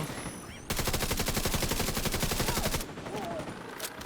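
Sustained rapid-fire gunfire from the video game Division 2: a loud, steady automatic burst of about two seconds, then quieter game ambience and a few scattered shots.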